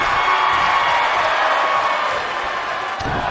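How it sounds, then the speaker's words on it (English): A capacity arena crowd in the WWE 2K19 wrestling game roars continuously, a broad steady wash of cheering that stays loud throughout, with a slight swell near the end. "This capacity crowd starting to sense the end is near"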